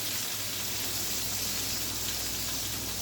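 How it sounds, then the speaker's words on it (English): Yellow and green peppers for a hearty Italian dish sizzle steadily in a hot pan, a dense continuous hiss held close and even throughout, with no talk. "Get a nice sizzle going."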